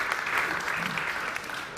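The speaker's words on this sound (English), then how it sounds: "Applause, please." Audience applause at a main-stage session of a festival on future mobility and cities, steady dense clapping holding for the full stretch without a break.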